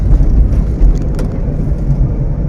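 A car engine idles and runs in a steady low rumble while being shifted up into third gear, with no distinct shift transient standing out; no voices are present.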